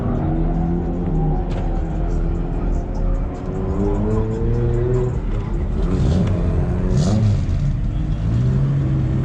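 A car engine drones and revs at an import car show, pitch rising and falling in steady sweeps, loud and close, with occasional muffled voices underneath.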